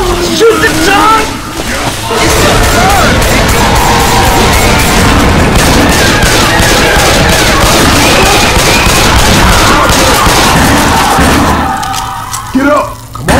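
Gunfire in Left 4 Dead 2, dense and continuous rapid shots filling the scene for several seconds, loud and close, with shouting players over it.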